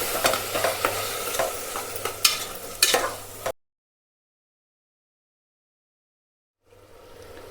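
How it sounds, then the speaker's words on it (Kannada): Tomato paste for tomato biryani fries on low heat in a pan, soft sizzling with scraping stir strokes for a few seconds, then silence before a faint sizzle resumes. "ಆಮೇಲೆ ಇದು ಚೆನ್ನಾಗಿ ಫ್ರೈ ಆಗುತ್ತೆ"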